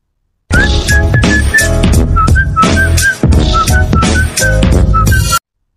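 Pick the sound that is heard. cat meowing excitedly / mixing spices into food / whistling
whistling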